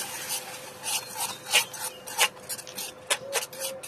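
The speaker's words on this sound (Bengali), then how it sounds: "একটু একটু আমের পেস্ট দিয়ে আমি মিক্স করে নেব" Caramel being mixed with mango paste in a bowl, heard as close, irregular scraping and rubbing strokes of a spoon against the bowl, several distinct swipes in an uneven rhythm.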